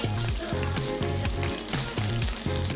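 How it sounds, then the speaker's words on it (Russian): Pelmeni dumplings sizzle and crackle in a hot pan, a steady frying hiss with occasional pops and soft scraping, close and continuous. "Затем выкладываем пельмени на раскаленную сковороду"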